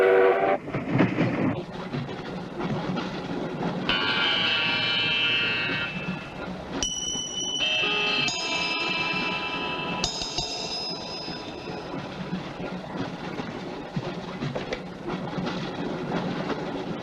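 A train rumbles and clatters past at moderate loudness, with several sustained horn or whistle blasts sounding over the steady rolling noise.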